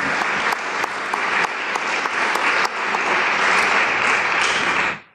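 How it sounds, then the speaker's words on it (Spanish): A conference audience applauds a speaker at an Asia-Pacific forum in Valparaíso in 2018, sustained dense clapping that holds steady for about five seconds before cutting off abruptly. "les pido un aplauso para Alejandro"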